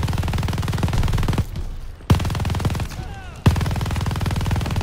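Mounted machine gun turret firing in Call of Duty Vanguard: long, steady, close automatic bursts, broken by two brief pauses with single sharp reports, firing almost without a break.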